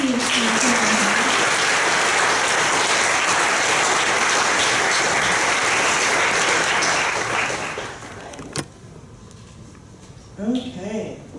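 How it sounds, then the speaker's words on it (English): A large crowd at a talk applauds loudly and steadily, then the clapping fades away and a voice begins speaking near the end. "we'd love to get a good round of applause for them"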